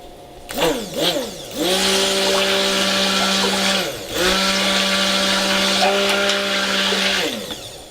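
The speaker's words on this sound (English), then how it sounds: "Put your stick blender in, burp it, and just pulse." A stick blender whirs in short pulses while mixing soap oils, starting with a couple of quick revving bursts before two sustained, loud runs of motorized humming, close by.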